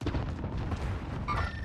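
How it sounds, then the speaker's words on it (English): Dense, rumbling bursts of distant video game gunfire roll on without a break, with a brighter tonal sound rising near the end. "Gunfire right there."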